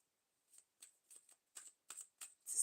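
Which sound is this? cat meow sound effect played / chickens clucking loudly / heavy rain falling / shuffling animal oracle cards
shuffling animal oracle cards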